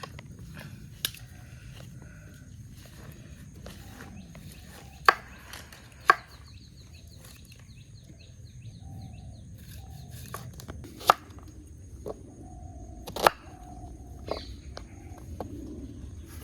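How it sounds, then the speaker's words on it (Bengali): Knife chopping onion and capsicum for chili chicken at an outdoor picnic, sparse sharp taps on a board, spaced irregularly over a quiet background. "কাট কাট কাট, পেঁয়াজ কাট তাড়াতাড়ি"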